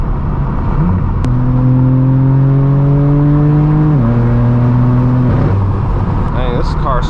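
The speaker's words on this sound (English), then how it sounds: "As you can hear, the M4 is sounding exceptionally good this morning." A straight-piped BMW M4 F82 exhaust gives a loud, sustained droning tone that holds, drops in pitch midway, then fades into road noise, close to the microphone.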